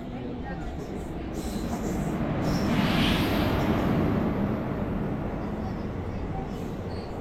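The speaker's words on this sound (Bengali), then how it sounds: "এই যে আমাদের ট্রেন এসে হাজির।" A train arriving at Nagercoil station in Tamil Nadu, a continuous broad rumble that swells to a peak midway and then holds steady, with faint station voices underneath.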